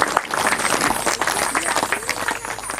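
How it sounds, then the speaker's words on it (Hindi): An audience at a Bhagavat katha, a Hindu scripture recitation gathering, claps with both hands in loud, dense, continuous applause, close and busy throughout. "आप लोग खाली ना रहे, दोनों हाथों से ताली जरूर बजा देंगे"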